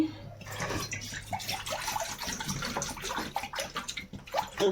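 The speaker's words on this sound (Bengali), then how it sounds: "এখানে আমি জল দিয়ে নিচ্ছি" Water runs and splashes into a cooking pot in a home kitchen, poured to boil bottle gourd: a continuous, close, moderately loud stream with dripping and gurgling, no talk over it.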